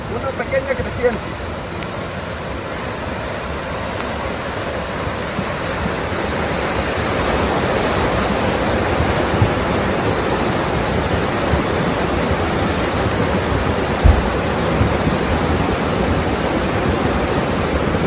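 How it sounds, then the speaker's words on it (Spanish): The Mula river in flash flood rushes past in a dense, continuous roar of churning water that grows slightly louder partway through, with someone speaking Spanish over it. "En vivo una creciente, una cabeza de agua como le llaman."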